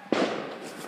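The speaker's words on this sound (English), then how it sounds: "I promise those are all fireworks." A single firework bursts with a sudden boom, then a crackling, rumbling tail fades over a second, moderately distant.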